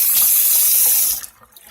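Water gushes steadily from a newly hooked-up sink faucet, a loud close hiss that cuts off abruptly near the end, leaving a brief faint drip and residual trickle.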